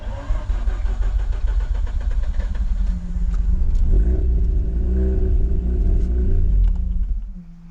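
A project car's engine cranks, catches and runs with a loud rumbling idle for several seconds, surges once, then dies away near the end.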